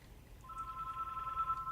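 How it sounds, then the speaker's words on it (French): A steady electronic telephone ringtone sounds partway through, a sustained two-tone chirp over low background hum during a French-language multiplayer Rainbow Six gaming session. "Et accessoirement, vous attendez mon téléphone."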